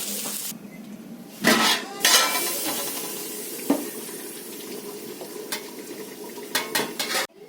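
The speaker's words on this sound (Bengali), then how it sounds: "তরকারিটা আমার রান্না হয়ে গেছে, আমি এখন ঢেলে নেব" Cooked gime shak curry is scraped and poured out of a metal pan, with spoon clinks, a faint sizzle and a few sharp metallic knocks against the rim, no talking.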